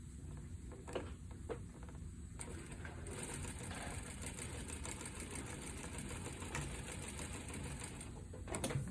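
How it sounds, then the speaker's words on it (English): A sewing machine runs in short bursts and then a longer continuous stretch while back stitching the top of a pocket, its needle chattering rapidly and steadily, fairly quiet and close, with no voices. "make sure you back stitch there real good to secure the top of the pocket"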